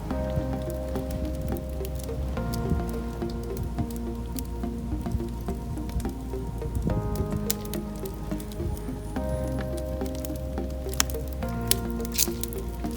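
Pancake batter is dumped into a pan, giving a soft, wet squishing and pattering pour over a steady background hum.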